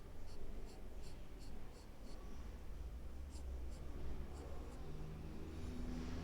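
A pencil scratches on paper in a portrait drawing, with quick repeated strokes that follow the curve of the hair, soft and close, a steady series of short scratchy marks.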